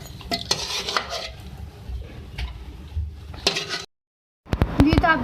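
Beef stew for a dhaba-style dish being stirred in a metal pot, with a scraping, clinking spoon against the sides in irregular strokes. A short silent gap follows, then a few sharper clanks.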